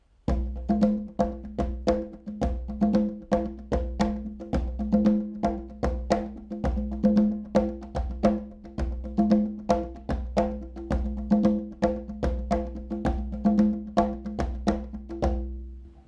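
A hand drum plays a steady repeating rhythm in 4/4 time, mixing deep bass tones with sharper slaps in an even looping pattern, close and fairly loud with no voices over it.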